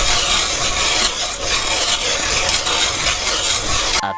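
A hand auger grinds a hole through thick lake ice in a continuous loud, rasping scrape with slight surges in rhythm, close up, ending abruptly.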